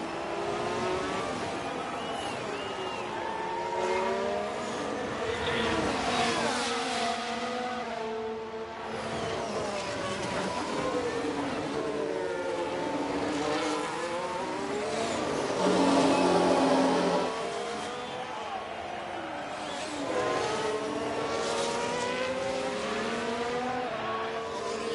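Formula 1 race cars in F1 Manager 23 at Mexico City, several engines whining and shifting gears in overlapping waves, loud and continuous, with swells as cars close up and brief tire squeal.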